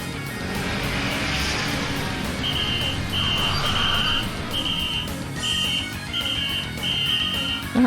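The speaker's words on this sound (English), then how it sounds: "Alright, stop with the whistle." A police whistle in the game Trails to Azure blows in a run of short, shrill, repeated blasts over a dense background of game music and noise.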